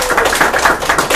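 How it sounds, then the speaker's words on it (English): An audience at a leaders' speaking event gives a round of applause, a brief burst of dense, loud clapping close by with no talk over it. "Give them a big round of applause."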